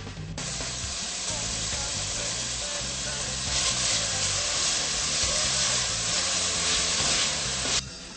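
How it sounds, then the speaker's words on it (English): Small pieces cut from three slices of bacon fry in a pan, giving a steady, close sizzle and crackle that runs throughout with faint stirring and no talk. "3 slices of bacon cut in little pieces that I'm going to fry"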